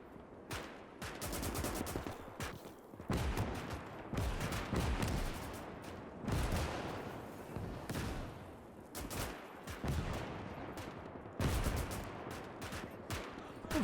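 Massed artillery and gunfire rolling across a World War I-style battle between Imperial German and Russian forces in Gates of Hell: repeated loud booms and crackling volleys in waves, with thick gunfire filling the gaps.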